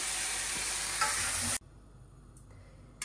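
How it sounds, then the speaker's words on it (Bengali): Chicken frying in a pan of oil gives a loud, steady broadband sizzle with stirring for about a second and a half, then cuts off abruptly to a quiet kitchen background with a couple of faint clinks. "এই যে চিকেনটা একটু ভাজা করে নিতে আসছি"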